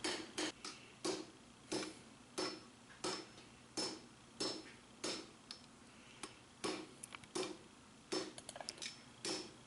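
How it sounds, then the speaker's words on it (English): A hammer strikes a lawnmower blade being forged into a sword handle, giving loud, close, ringing blows in a steady rhythm of roughly one to two per second, closing with a quick flurry of lighter taps. "I just concentrate my strikes in different areas to try and shape the handle"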